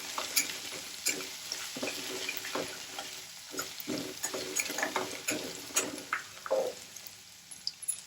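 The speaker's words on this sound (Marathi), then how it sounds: "1 चमचा लसणाची पेस्ट, याला थोडंसं भाजून घ्यायचं आपण" Ginger and garlic paste fry in a pan with a soft, quiet sizzle, broken by frequent clinks and scrapes of stirring.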